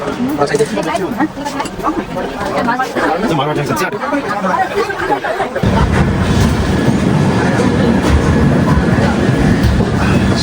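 Crowd chatter fills a busy space, then gives way to the steady rumble and rattle of the 22663 Chennai Egmore to Jodhpur AC express train rolling along the rails close by.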